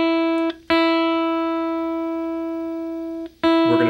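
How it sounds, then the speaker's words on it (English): A single guitar string, the E, rings out as it is plucked during tuning, then is struck again twice, each pluck sustaining cleanly and decaying slowly, alone without talk. "You're going to hear the E, that same string."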